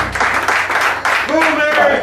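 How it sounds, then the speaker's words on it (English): An audience at a bar gig claps and applauds in bursts, lively and fairly close, with voices talking over the clapping. "Clap it up."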